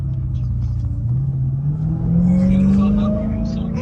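A 707-horsepower Dodge Hellcat with traction control off rumbles deeply and rises in pitch as it accelerates, loud and steady from inside the car, with people talking faintly over it.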